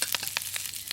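Green onion stir-fries in hot oil in a pan as a crab and rice noodle dish is cooked, a close, steady crackling sizzle with quick scraping bursts from the stirring.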